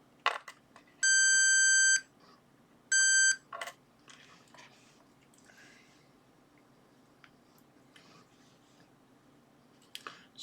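A buzzer on a Maxitronix 20-in-1 electronics kit, built as a ferromagnetic detector, gives two steady electronic tones, the first about a second long and the second shorter. Quiet handling noises and faint clicks fill the spaces between them.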